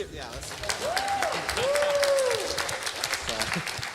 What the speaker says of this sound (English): I almost completely skipped your clap.